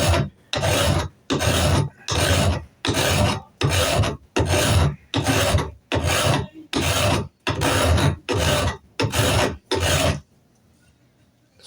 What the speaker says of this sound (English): Just filing down some of them sharp little edges in there.